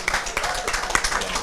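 Brief burst of crowd applause for a newly elected students' union president at a live election results event, dense and continuous clapping with voices mixed in.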